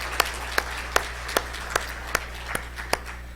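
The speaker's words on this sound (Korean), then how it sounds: "수고하신 우리 사여전도에 박수로 격려해 주시기 바랍니다." A church congregation at a Sunday morning service claps in a steady, even rhythm of about two or three claps per second. The clapping is moderately loud over a low, constant background hum.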